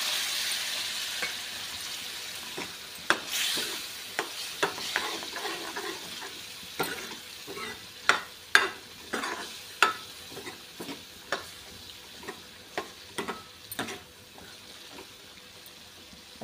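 Chickpeas for chole masala stirred in a pan as they fry, with a soft steady sizzle under repeated sharp scraping and clacking strokes of the spoon, close and fairly quiet, with no talk.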